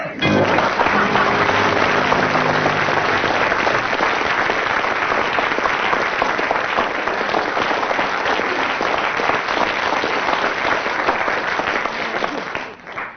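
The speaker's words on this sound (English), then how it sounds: "with 7 seconds of spontaneous applause from the audience there, Tim and Willie" The studio audience of a radio panel comedy show applauds a musical round, steady loud clapping lasting over ten seconds before tapering off at the end.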